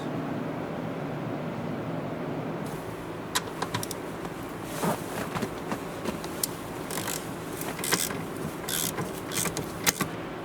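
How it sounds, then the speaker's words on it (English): An E12 star socket on a ratchet loosens the front seat bolts inside a Volvo XC, with a quiet hum first, then a run of light, close ratchet clicks and small metallic ticks. "Now we will need to loosen two star-shaped bolts. There's one on this side, one on the other. For this we'll need to use the E12 socket."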